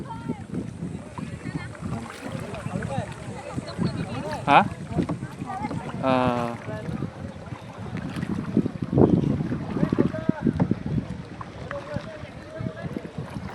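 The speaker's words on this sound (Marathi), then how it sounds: "आमच्या मॅडम बघा किती ताकद लावतात होडी चालू" A rowboat is paddled through mangrove water in Konkan, with soft irregular splashes and strokes under steady wind buffeting the microphone, while people talk nearby.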